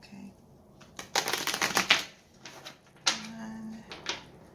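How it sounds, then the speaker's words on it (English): A deck of tarot cards is shuffled up close, giving two distinct bursts of rapid papery riffling with quieter handling and soft rustles between them. "I'm going to shuffle a couple more times just for good measure."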